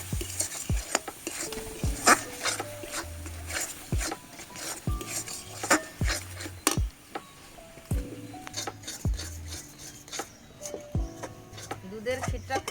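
Milk kheer being stirred vigorously in a pan while making Bengali pitha, a series of scraping and knocking strokes of a spoon against metal in an irregular rhythm, close and moderately quiet.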